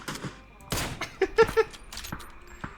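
Gunfire in the video game PUBG sounds as a few sharp shots in a quick cluster, mixed with excited voices talking over them.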